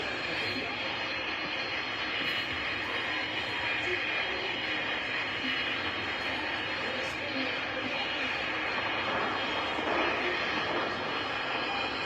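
Steady, loud roar of a Boeing 747 jet engine in a flight simulator game, a continuous broadband whine that stays level throughout.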